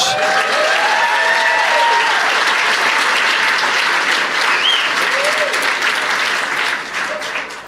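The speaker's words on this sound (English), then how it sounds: "Clap for all these educators." A stand-up comedy audience applauds steadily for educators, a full, even wash of clapping from a large crowd with a few faint calls, fading slightly at the end.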